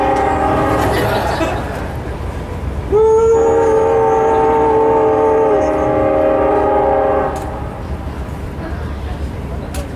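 A train whistle blows one long, loud, steady blast over the rumble of a passing train, then cuts off.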